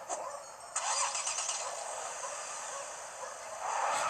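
A car engine starting up in the video game Lego City Undercover, a broadband rising burst after a brief opening, then a steady engine hum that swells again near the end, with no talk.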